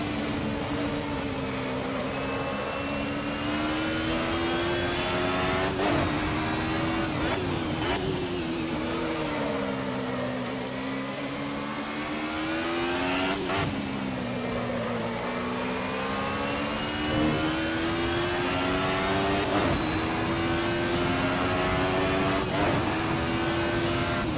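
Racing car engine in the Assetto Corsa racing game, run below the maximum rev limiter with paddle-shift gear changes: a sustained, loud engine whine that climbs and falls through repeated gear changes, steady throughout with no talking.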